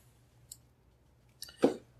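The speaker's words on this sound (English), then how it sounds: "I'm going to use a thread ripper, a little bit safer." A small seam ripper snips stitching thread on a mainsail, giving a faint tick followed by a sharp, close cluster of cutting clicks and a short tug in a quiet room.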